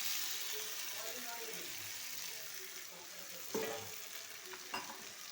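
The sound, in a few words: stirring fried eggs into potato curry in a pan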